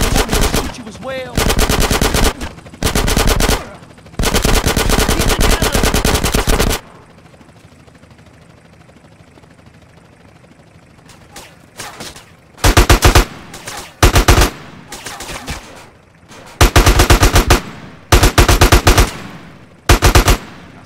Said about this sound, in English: I'm gonna shoot you as well.